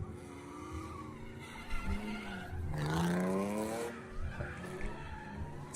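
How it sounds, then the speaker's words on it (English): A BMW E46 skids with a long, rising tire squeal over steady engine roar, loud and sustained through the middle of the run. "It's a good skid from that red thing."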